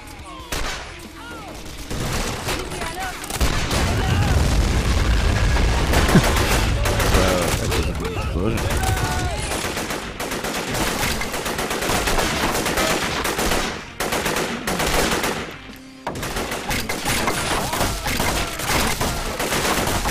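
Gunfire and RPG fire crackle through a battle in the Men of War Vietnam video game. Dense, overlapping bursts of rifle and machine-gun shots rattle almost without pause, with a few heavier blasts in the mix.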